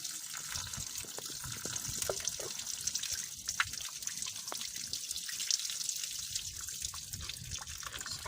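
Coolant trickling and dribbling out of a Peugeot Citroen 2.2 HDI engine, a steady close liquid flow with occasional drips, moderately quiet.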